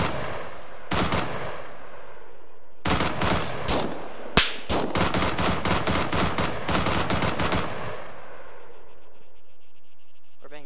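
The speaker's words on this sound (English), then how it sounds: "We're being shot at." Bursts of automatic gunfire in the military shooter ARMA 3, loud, rapid rattling volleys separated by short pauses, with one sharp crack standing out before the firing tapers off.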